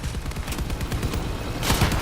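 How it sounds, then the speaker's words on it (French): Machine gun fire in the vehicle combat game Crossout: a steady stream of rapid, rhythmic shots at moderate loudness, growing heavier and denser near the end. "Il y a juste une pauvre mitrailleuse pour attaquer les gens"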